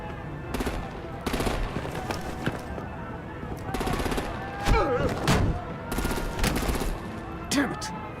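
Artillery and automatic gunfire in a Batman video game break out as repeated loud bursts of rapid fire over a busy, noisy game scene, with speech mixed in among the shots.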